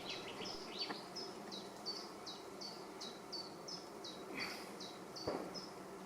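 Honeybees hum in a steady outdoor drone at an open hive, with a few sharp, rhythmic chirps of a bird or insect repeating overhead. The buzz is moderately quiet and continuous, with occasional brief knocks.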